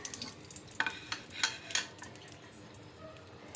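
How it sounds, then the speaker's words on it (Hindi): Garam masala frying in ghee for khichdi gives a faint background sizzle, broken by a few sharp clinks of a spoon against the pan. "ये देखें मैंने गरम मसाला डाल दिया है घी में।"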